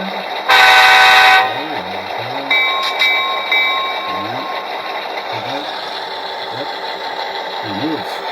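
An HO scale Athearn F unit fitted with a Soundtraxx ECO-PNP decoder gives a loud blast of its horn, then a steady diesel engine rumble with whirring motor and repeated chuffing-like pulses, and a brief bell-like tone, close by.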